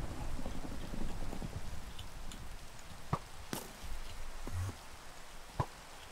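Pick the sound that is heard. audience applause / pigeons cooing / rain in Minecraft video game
rain in Minecraft video game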